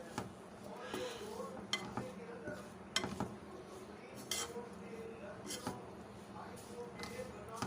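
Gram flour roasts with green chillies in a pan, a spoon scraping and clinking against the metal in irregular strokes over a steady low background, with a voice talking throughout.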